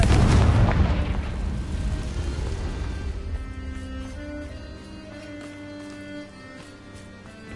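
A Confringo spell explosion from the Hogwarts Legacy video game sets off a loud booming blast that rolls on in a long, fading rumble, with faint tonal game music continuing underneath.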